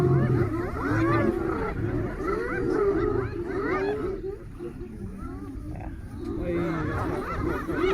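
Snarling, growling vocalizations of a lion attacking a hyena, a dense continuous mix of roars and yelps with people talking over it.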